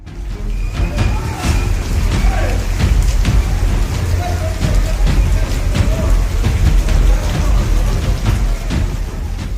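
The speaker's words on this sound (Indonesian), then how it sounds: "Di video ini terlihat derasnya aliran air akibat banjir" Torrential floodwater rushes through a city swamped with mud in Bangalore, a loud, steady churning roar that holds throughout with scattered splashes and knocks.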